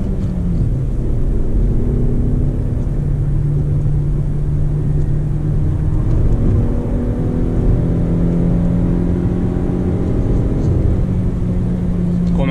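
A 2018 Jeep Renegade 1.8 with a manual gearbox accelerating along a road, its engine drone rising steadily in pitch, heard from inside the cabin beneath steady wind and road rumble.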